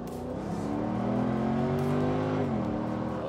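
Mercedes-Benz SLK55 AMG engine revving loudly and steadily, with pitch stepping down as the driver drops through fourth, third and second gears, held close throughout with no talk.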